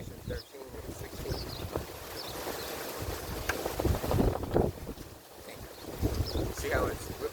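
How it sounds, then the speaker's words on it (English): Gusty wind suddenly picking up at an outdoor campsite, a continuous rushing roar that buffets the microphone and swells and eases, with voices talking intermittently over it. "See how it's all of a sudden windy?"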